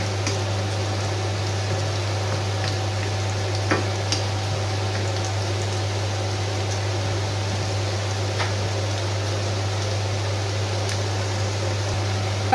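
Onion and garlic sauté in a pan for seafood paella with a soft, steady sizzle and occasional light crackles, sitting over a constant low electrical hum.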